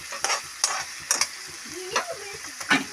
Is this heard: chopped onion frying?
yes